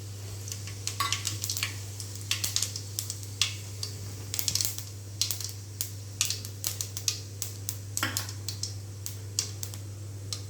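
Fennel seeds, a small piece of cinnamon, a bay leaf and a clove splutter in hot oil for a chicken gravy, giving quick irregular crackles and pops over a low steady hum.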